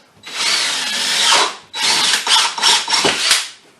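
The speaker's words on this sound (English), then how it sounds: "I'm going to drill a hole in this" Power drill boring a 7/16 hole for a DIY mason jar vacuum sealer attachment, two close, loud whining bursts with a short pause between and uneven bite as the bit cuts through.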